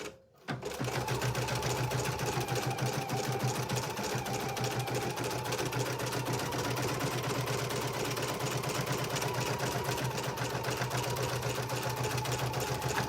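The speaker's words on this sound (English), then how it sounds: "it's now going to do that diamond quilting on the left side of the heart" An embroidery sewing machine stitches diamond quilting onto an in-the-hoop heart oven mitt, giving a loud, steady, rapid mechanical chatter that runs without a break after a brief quiet start.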